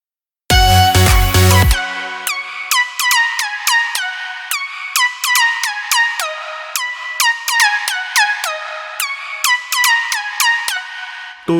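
Bright synth lead from an EDM production plays a catchy melody of quick, plucky repeated notes after a brief loud opening chord, up front and steady, with no voices.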